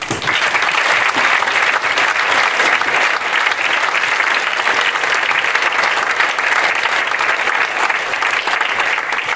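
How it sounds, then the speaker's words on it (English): An audience at a youth sports academy awards evening gives the boys a massive round of applause, dense and loud, sustained evenly for over nine seconds. "can we have a massive round of applause for all the boys?"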